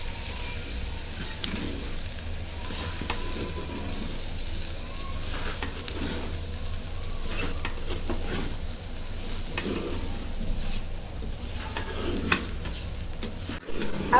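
Washed rice and lentils with spices crackle and sizzle as they are lightly fried for bhuna khichuri in a rice cooker, with repeated scraping strokes of stirring over a continuous fry.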